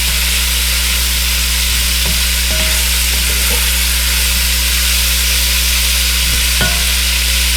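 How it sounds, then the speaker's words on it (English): Sausage for red beans and rice cooks in a pan with a steady, loud, continuous sizzle and frying hiss throughout, broken by a few faint clinks of stirring. "start cooking those up. Smell that sausage."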